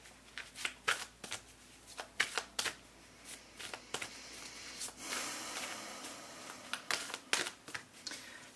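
A deck of oracle cards is shuffled by hand in repeated crisp riffling bursts, loud and close. Soft breaths and snorts come between the bursts, and a longer smooth shuffle runs in the middle.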